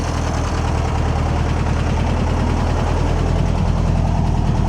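A 1966 VW Beetle engine idling with a steady, loud, close rumble and fast regular pulsing that runs unbroken throughout, with no voices over it.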